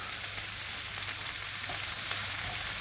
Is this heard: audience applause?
no